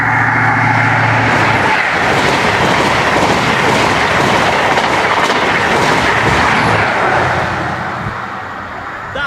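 An HST Class 43 diesel train roars past a level crossing at close range, a loud steady rush of engine and wheel noise that eases slightly as it moves away.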